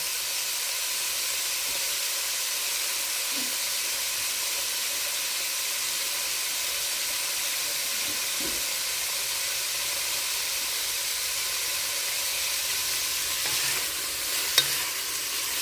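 Pork browning in a crowded pot for green chili, a steady soft hiss and sizzle throughout, quiet and even with a few faint clinks, no speech.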